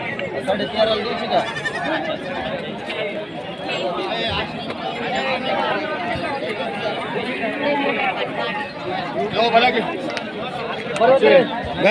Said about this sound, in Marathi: टॉप क्वालिटीची मोठ्या राशीची शेळी आहे